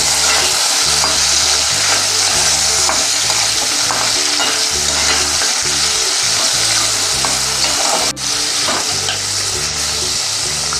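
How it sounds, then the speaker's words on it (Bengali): Cashews and paneer lightly fried and stirred in a pan for tricolor fried rice, a loud continuous sizzle with rhythmic scraping strokes of the spatula close by. "কাজু আর পনিরটা সামান্য নেড়ে নেব।"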